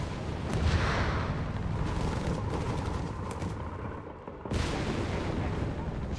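Continuous heavy artillery bombardment in Company of Heroes 3, a dense rumbling barrage of booms and blasts filling the whole stretch, with a brief dip near the end before the shelling resumes just as loud.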